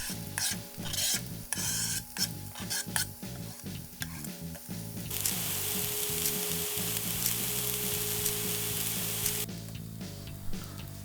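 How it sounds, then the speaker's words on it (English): Diced onion fries in salted butter in a pan, first with a series of rhythmic stirring scrapes over the sizzle, then a bright, continuous hiss of frying that swells and fades near the end. "Add the diced onion to the pan and fry in the butter until caramelized."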